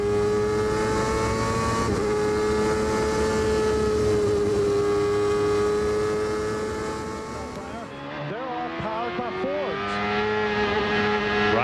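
An IndyCar engine drones at high, steady revs through the Carousel corner at Road America at about 150 miles an hour, then briefly dips and climbs again, loud and continuous throughout.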